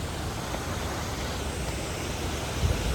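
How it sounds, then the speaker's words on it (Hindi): A mountain waterfall on a rainy trek toward Manimahesh gives a steady, dense rush of falling water, unbroken and fairly distant, with no voices. "ये देखो झरना।"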